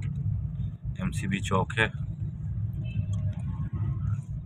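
Busy city road traffic at a chowk in Okara, Pakistan, with a steady rumble of vehicles close by and someone speaking over it.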